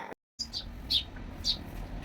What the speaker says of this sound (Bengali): সারাদিন পাখিগুলো কিচিরমিচির করে